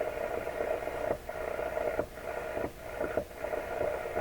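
Electrohome tube radio hissing with static, its noisy output broken by several sharp pops at irregular intervals, each followed by a brief dip and recovery in level from automatic volume control, close and moderately loud.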